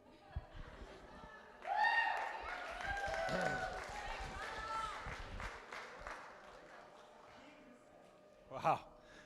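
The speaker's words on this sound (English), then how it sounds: "Round of applause for Aurélie." Guests at a wedding reception at Le Pont Couvert in La Conception, Quebec, break into applause that swells quickly and carries on under a voice, fading toward the end before a brief burst of noise.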